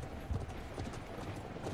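Horse hooves gallop in the video game Conqueror's Blade, a quick, dense drumming of clip-clop impacts over steady battle noise, brief and moderately close.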